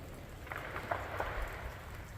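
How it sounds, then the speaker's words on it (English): Freezing rain falls during an ice storm as a steady, dense hiss with a few faint taps of drops striking surfaces, constant throughout with no voices. "This new batch of freezing rain"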